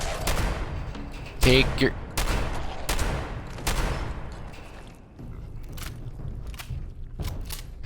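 Gunfire in the video game Fallout 76, a series of loud, sharp shots and bursts in irregular clusters with footsteps between them, while a person briefly talks.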